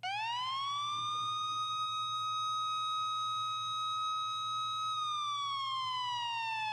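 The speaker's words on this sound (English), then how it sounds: "here's the police siren that I showed in the pack" A long police siren sound effect from a riddim sample pack holds a pure wailing tone that sweeps up, sustains steadily, then slowly glides down, clean and alone over a low hum.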